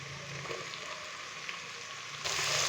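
Finely chopped tomato dropped into ginger garlic paste frying in a pan for aloo matar tahari: a steady close sizzle that swells louder and brighter near the end as the tomato hits the hot oil.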